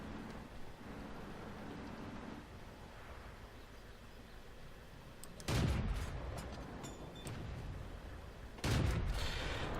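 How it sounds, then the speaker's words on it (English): Two heavy tank cannon blasts ring out in World of Tanks, each a sudden loud boom with a rumbling tail, spaced a few seconds apart over a steady battlefield engine drone. "he was definitely shooting at me"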